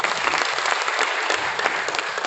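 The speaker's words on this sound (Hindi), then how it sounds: "हाँ, ये तालियां बजा दो एक बार।" Steady applause from a crowd, many hands clapping densely and evenly throughout with no pauses.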